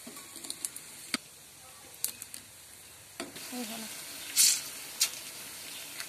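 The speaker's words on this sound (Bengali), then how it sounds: "এখন একটা একটা এরকম করে আমি ভেজে ফেলবো" Steady sizzling of puris frying in hot oil, with sharp crackles and pops and a brief loud hiss midway, close by.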